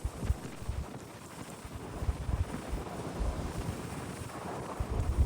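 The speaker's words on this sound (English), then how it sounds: "The Pacific greets us with a curtain of fog and wind." Wind on the foggy Pacific coast of California, a steady rushing buffet with low rumbling gusts across the microphone, no voices.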